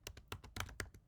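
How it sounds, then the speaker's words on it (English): Quick typing on a computer keyboard, about nine close, distinct key clicks in an uneven rhythm over roughly a second, quiet and with no talking. "why am I typing funny today?"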